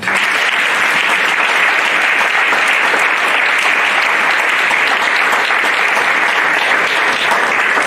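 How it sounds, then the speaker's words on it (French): A church congregation applauds together in steady, dense clapping that fills the whole stretch at full strength, with no voices rising above it. "On peut applaudir ça quand même."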